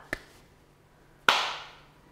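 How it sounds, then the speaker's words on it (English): Two hand claps serve as an editing marker in an otherwise quiet room. A short, soft clap comes first, followed about a second later by a loud, sharp clap that rings out and fades. "You always do a funny clap."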